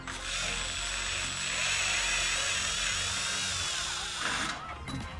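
A power drill whirs steadily at high speed for several seconds, rising slightly in pitch, then winds down near the end.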